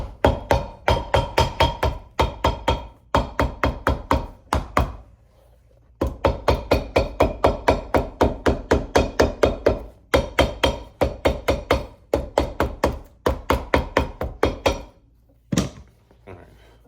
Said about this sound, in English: now we'll be able to hammer it and flatten it down